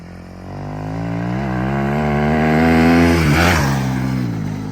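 A Yamaha 250 YZF motorcycle engine revs loud and close. Its pitch climbs steadily, then drops sharply at a gear change before pulling up again.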